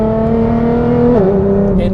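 A tuned Nissan GTR takes a bend at speed, its engine loud and close with a steady, continuous drone that dips in pitch briefly midway before holding steady, with no talking.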